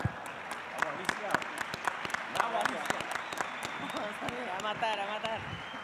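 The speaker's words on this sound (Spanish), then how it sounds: "pido un fuerte aplauso" Applause for a former executive secretary of the UN's Economic Commission for Latin America, given at a conference on Latin American development, with scattered claps against steady crowd noise and some voices underneath.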